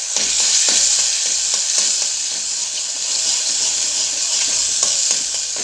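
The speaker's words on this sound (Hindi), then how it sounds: "अब मैं इसमें हल्दी का पेस्ट डाल देती हूँ और एकदम मीडियम स्लो पे हमें इसे पकाना है" Turmeric paste frying in hot ghee over medium-low heat makes a loud, even, bright sizzle with occasional soft stirring scrapes, close and continuous with no voices.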